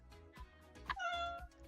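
A pet cat meows loudly and insistently indoors, a few sharp, close calls in quick succession with one drawn-out yowl.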